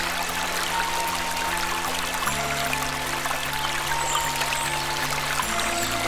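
Stream water in a forest near Kodaikanal rushes and pours in a steady, full, unbroken wash close by, with no voices.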